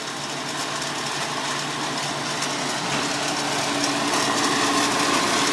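An IH Farmall Cub tractor with a C3 mower runs steadily nearby, its small engine giving a constant buzzing drone throughout, with no talk.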